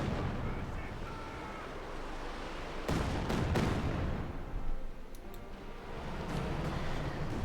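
Katyusha rocket artillery rains down in a Company of Heroes 2 match, a rumbling barrage of repeated blasts and sharp cracks over steady battlefield noise, loud in the middle and easing afterward.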